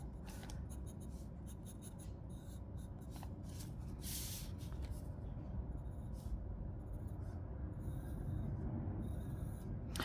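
Pencil drawing cylinders on paper, a continuous close scratching and rubbing of graphite strokes with short repeated scribbles throughout, no talking.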